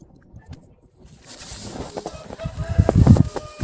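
Hens cluck in a poultry yard shed in a Ukrainian village in winter, with turkeys, ducks and guinea fowl also kept. Faint at first, the clucking grows louder and busier toward the end, close by.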